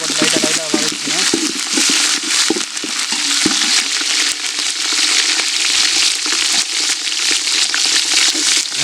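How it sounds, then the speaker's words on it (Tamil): Whole spices, cloves and fennel seeds, sizzle in hot oil in a pan, a steady loud crackling fry with occasional stirring scrapes throughout. "கிராம்பு, சோம்பு இதெல்லாம் போட்டு லைட்டாக வதக்கிக்கணும்."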